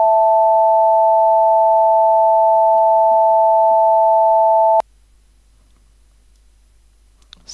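Two steady sine tones, A and E, combined from a software sound generator, a clean sustained pure hum that cuts off abruptly, followed by near silence and a faint click.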